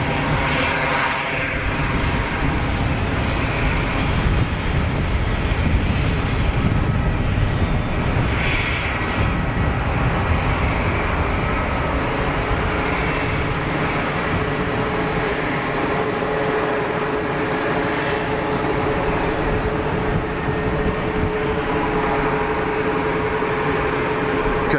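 An Airbus A220-100 roars at Geneva Airport, a loud sustained broadband jet engine rumble that continues steadily throughout with no voices.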